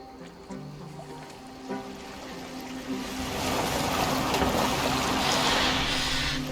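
A boat moves across water in the video game Assassin's Creed Valhalla, a soft wash and trickle that swells into a louder, steady rush over a low musical drone.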